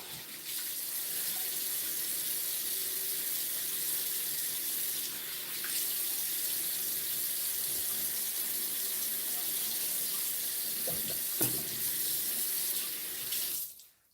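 Steady running water from a tap pours continuously for the whole stretch, close and fairly loud, cutting off sharply at the end.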